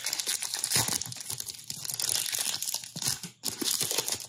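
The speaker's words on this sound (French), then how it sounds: "Je vais ouvrir un petit booster du coup Tyrannosif." A Pokémon trading card booster pack wrapper is torn open and its foil crinkles, with sharp rustling and tearing bursts running nearly continuously, close up, with a brief pause near the end.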